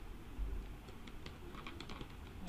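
Someone types HTML on a computer keyboard, a quick, close run of light key clicks with no talking.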